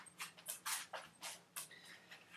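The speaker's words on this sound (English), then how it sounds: "now my giant dog is going to run through" A giant dog runs through a room, its quick footfalls and scrabbling sounding as a series of soft, irregular bursts, faint and with no talk.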